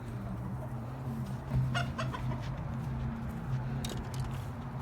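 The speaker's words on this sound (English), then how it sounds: "the chickens are running away" Chickens cluck in a low, steady, close murmur of repeated calls while fleeing, with a few brief sharper scuffles or squawks mixed in and no talk.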